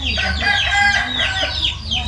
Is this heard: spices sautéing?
no